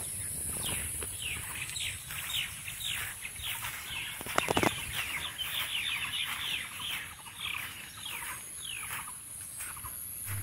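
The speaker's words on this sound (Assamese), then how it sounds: "চৰাইবিলাক মাত দি আছে" Birds call in the garden of an old British-era tea estate bungalow, a series of quick chirps and clucking calls close by over a steady outdoor hiss, with a brief flutter midway.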